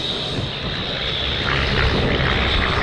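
Aircraft engines roaring steadily during an airshow flying display at Little Gransden, a loud, continuous propeller drone that swells slightly toward the end, with no voices.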